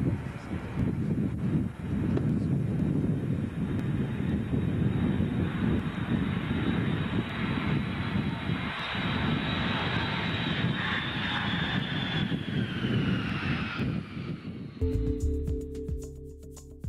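An airliner on approach to Dublin Airport, heard as a loud, steady engine roar with wind rush that holds for about fifteen seconds, then shifts abruptly to a different tonal hum near the end.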